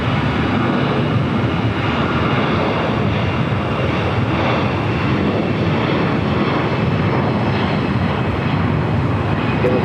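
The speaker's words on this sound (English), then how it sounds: "Next takeoff heading to Austin, Texas, flight 622." An airliner on flight 622 to Austin takes off at LAX, giving a continuous broad engine roar that stays loud and steady throughout, with no talk over it.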